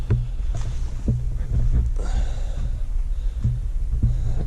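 A 1972 Blizzard 797 snowmobile, a barn find with a rebuilt engine and rebuilt carburetors, runs with a low, throbbing engine rumble broken by periodic heavier pulses, close and fairly loud, with no speech.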